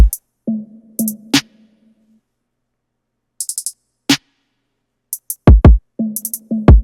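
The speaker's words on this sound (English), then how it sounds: "But now let's get into the drums, which sound like this." A sparse programmed dark R&B trapsoul drum beat with a punchy kick, sharp snare hits and quick hi-hat ticks, stopping and restarting in short bursts.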